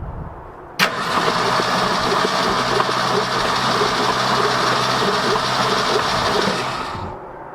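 A 1966 Ford F250 farm truck, parked since 1992, with oil squirted into its cylinders, cranks over loudly on the starter with a steady, continuous churning for about six seconds before it cuts off. No one speaks.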